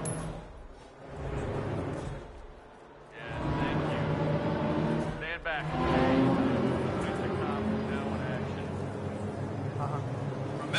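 Racing cars in a video game roar past into a corner, engines rising and falling as one slips by another in a slipstream, loud and close, with a voice talking over the engine noise throughout.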